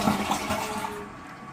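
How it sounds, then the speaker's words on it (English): A toilet flushes in a Gettysburg inn, a short rushing gush of water close by that fades quickly, with a faint tonal whine running under the flow. "I had to show you this oddity about the toilet."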